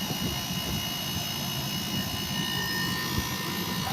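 An air conditioner with a newer DC fan motor runs with a steady, even whirring hum and broadband airflow noise, continuous and unchanging throughout, with no voices.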